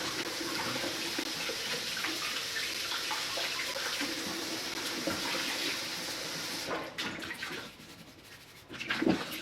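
Tap water runs steadily into a kitchen sink while potatoes are scrubbed underneath, a constant rushing stream that breaks into sputtering and splashing near the end, with no voices.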